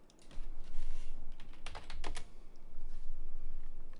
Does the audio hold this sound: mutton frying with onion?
no